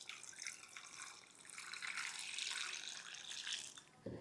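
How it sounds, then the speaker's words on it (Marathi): Water poured into an Agaro multi cook kettle holding potatoes, a faint, close, continuous splashing trickle lasting several seconds before stopping abruptly at the end. "पाणी ओतून घेऊयात"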